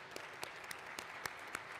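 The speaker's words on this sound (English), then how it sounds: "Let's give them a round of applause." Audience applause for employees at the opening of a manufacturing facility in Kenosha, a faint, steady patter of clapping with sharper individual claps standing out, no talking over it.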